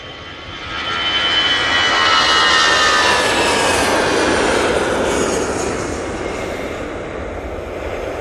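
An EasyJet Airbus A320-200 jet departs Manchester Airport, its engine roar swelling within the first second into a loud, steady broadband rumble and whine that holds, then eases slightly toward the end, with no voices.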